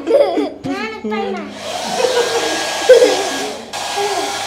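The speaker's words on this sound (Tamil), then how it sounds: "இது பேர் என்ன? Hair dryer." Hair dryer switched on in a resort bathroom, a steady broadband whoosh that starts after children's chatter and laughter and runs on under their voices before stepping down in level.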